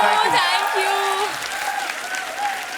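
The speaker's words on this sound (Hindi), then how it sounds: "आप सबकी जोरदार तालियों के बीच बुलाना चाहूंगा।" A studio audience at a comedy talk show applauds loudly and steadily as guests arrive, with a host's voice and music running over the clapping.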